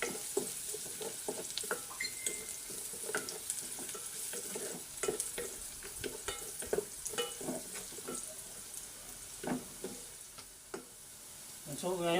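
Garlic being stirred and fried in a pan for pork adobo, a soft continuous sizzle with scraping utensil clicks and taps, close and fairly quiet, with a faint voice in the background.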